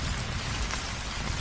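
Heavy rain from a nor'wester storm pours down steadily, a dense, loud, close wash of rain on surfaces with no voices over it.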